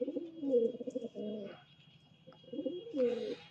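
Pigeons cooing in close, repeated throaty bursts separated by short pauses, with brief scuffling noises from birds fighting nearby.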